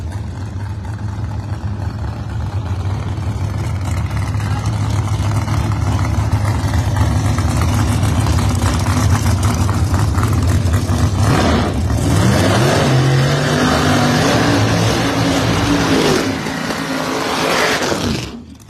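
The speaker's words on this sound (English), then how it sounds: "Once again, a beautiful nitrous-powered Mustang near lane." A nitrous-powered Mustang drag race car idles and revs loudly with a steady, rough engine drone, swelling into louder revving toward the end before cutting off abruptly, close and dominant throughout with no talk.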